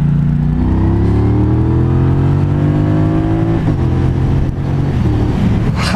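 A big 1200cc cruiser motorcycle accelerates hard, its loud, close engine note rising steadily in pitch through the gear, with a brief shift near the end and no talking.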